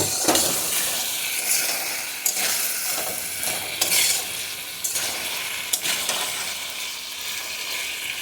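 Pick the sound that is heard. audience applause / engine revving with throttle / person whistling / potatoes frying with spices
potatoes frying with spices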